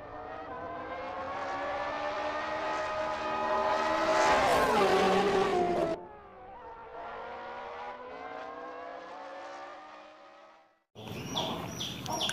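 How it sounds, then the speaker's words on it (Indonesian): A race car engine revs loudly and steadily, its pitch climbing and falling for about ten seconds, then cuts off briefly before a short burst of revving returns. "Wow, mobil balap."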